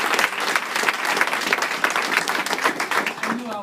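An audience applauds a group of children, dense continuous clapping from a crowd filling the whole stretch at steady loudness.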